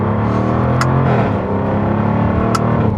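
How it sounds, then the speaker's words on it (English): A 2024 Jaguar F-Type R75 P575 AWD engine revs up on a manual downshift, a deep, loud sustained growl with a rising pitch and a couple of sharp pops or crackles, no talking. "you can hear the grrr when you shift in manual mode"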